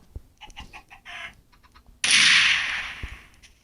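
A chicken in a video game weapon mod gives a rapid series of short clucks, followed by a loud, bright burst of squawking and flapping, then quieter clucks.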